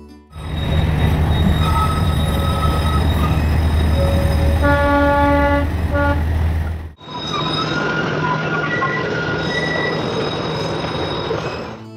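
A Darjeeling toy train, the NJP passenger 52541, rumbling steadily along its narrow-gauge rails close by, with squealing wheels and sustained horn-like tones over a dense mechanical clatter, briefly dipping mid-way before rolling on.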